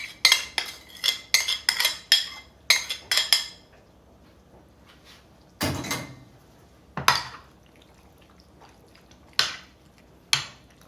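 Marinade mixture being stirred into beef tapa in a bowl, giving a series of sharp utensil clinks and scrapes against the dish, clustered in quick bursts at first and then spaced out, close and fairly loud with no talking.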